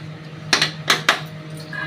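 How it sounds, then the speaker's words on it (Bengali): A lid set onto a cooking pot of simmering curry, three sharp metallic clanks in quick succession over a steady low stove hum, close and clear with no talking. "এবার ঢাকা দিয়ে দিলাম।"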